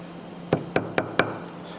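Leather for a high-heel shoe upper is hammered flat by hand, four sharp, evenly spaced knocks close by over a faint background hum.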